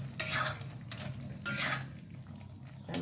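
Restaurant-style methi malai chicken tipped from a pan into a serving bowl, with a few close scraping and clinking strokes of a spoon against metal and softer wet shuffling between them.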